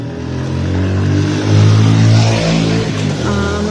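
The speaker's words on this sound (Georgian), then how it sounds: "მოტოციკლი მოდიოდა და იმიტომ გავჩუმდი" A motorcycle passes by outdoors, its engine drone rising and peaking loud in the middle before dropping away as it moves off.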